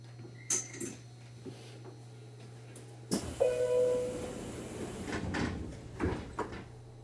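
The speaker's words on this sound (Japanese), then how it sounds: "扉が閉まります。" Doors close on a Nishitetsu Tenjin Omuta Line train: several clicks and knocks come first, then a loud thud and a rumbling slide with hissing and clatter, heard from inside the carriage over a steady low hum.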